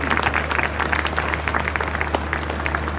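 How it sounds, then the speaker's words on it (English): Audience applause at a child wellness campaign event, steady dense clapping from a crowd sustained evenly throughout, moderately loud with no voices over it. "So please give yourselves a round of applause."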